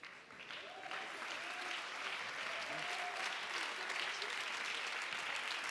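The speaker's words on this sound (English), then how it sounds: "let's give them a very big round of applause" Steady audience applause for winning cities at an awards ceremony, moderately distant and even, with some voices murmuring underneath.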